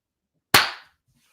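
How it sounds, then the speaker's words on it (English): A single sharp hand clap, loud and close, with a short fading tail and silence around it, marking an edit point. "I'm going to go ahead and give a clap now"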